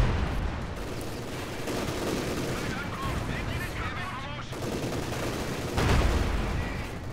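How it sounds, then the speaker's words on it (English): Sustained gunfire and heavy cannon blasts from a World War II strategy game as a Panzer IV tank pounds a captured MG-42 machine-gun position, dense and continuous with louder bursts near the end and a voice talking over it. "Panzer IV is doing a number on this MG, stolen MG-42."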